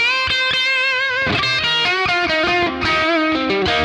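Bridge pickup on a Glarry GTL budget Telecaster-style electric guitar with strings picked hard, a steady, loud stream of bright, twangy single notes and double-stops played up close.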